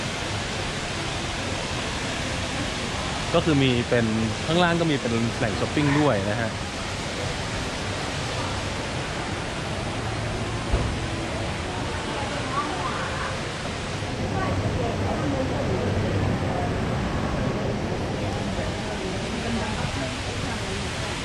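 Large indoor waterfall at Jewel Changi Airport, a steady broad rushing roar filling the space, with someone talking over it and background crowd murmur.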